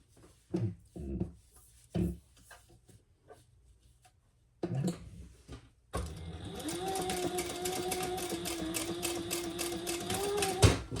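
A sewing machine stitches a seam joining fold over elastic, starting after a few scattered handling knocks with a steady, close whirring run lasting about five seconds.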